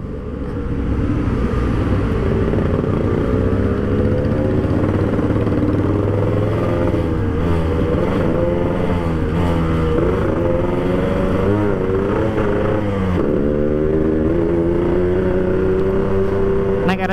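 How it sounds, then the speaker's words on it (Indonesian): Yamaha RX-King motorcycle engine and exhaust drone loudly and continuously while riding, the pitch rising and falling as the throttle changes. "kok suara knalpotnya kencang, tapi sleeper gitu loh"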